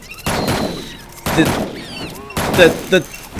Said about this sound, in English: I have unlimited ammo in this mode, so why not just shoot a bunch of cars?